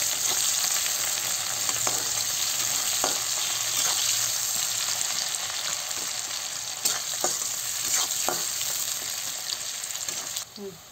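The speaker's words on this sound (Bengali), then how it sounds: "পেস্টটা ভালো করে লাল লাল করে ভেজে নেবো" Spice paste being fried until reddish in a pan for a jackfruit curry, a dense continuous sizzle with periodic stirring scrapes, close and fairly loud, no talking.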